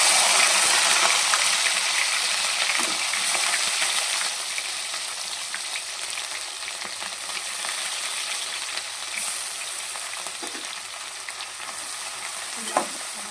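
Dried fish fries in hot oil with a dense, continuous sizzle, loud and close, with occasional stirring clinks and no talk.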